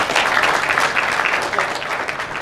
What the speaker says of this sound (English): Give a clap to him.